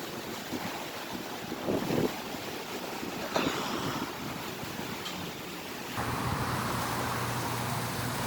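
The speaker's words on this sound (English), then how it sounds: "Lots of wind blowing." Strong Hurricane Helene wind blows steadily on Florida's Space Coast, a loud broadband roar with gusty swells and buffeting against the microphone, growing harsher and denser in the final seconds.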